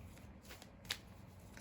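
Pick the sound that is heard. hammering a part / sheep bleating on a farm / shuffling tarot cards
shuffling tarot cards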